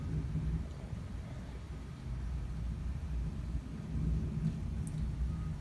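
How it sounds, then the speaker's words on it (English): Thunder in a severe thunderstorm over south east Michigan rolls as a continuous low, faint rumble with no clear breaks. "The thunder is just non-stop."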